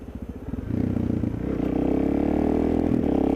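A motorcycle putters at low revs, then the engine rises into a loud, steady drone as it pulls away and cruises, heard close up from the bike itself with no voices.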